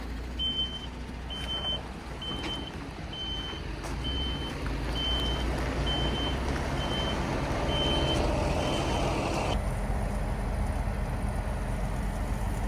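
A wagon truck reversing sounds a regular series of high reversing beeps for about ten seconds over a constant low engine rumble and road noise, then the beeping stops while the engine continues.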